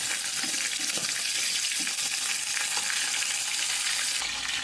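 Oil crackles and spits in a small pan, a dense close sizzle with quick pops that holds steady throughout and drops off sharply near the end.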